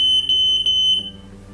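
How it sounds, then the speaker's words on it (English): A smoke detector under test gives a series of loud, shrill electronic beeps, roughly three short chirps close together, with no other sound around them. "Preparing accommodation involves checking the smoke detector"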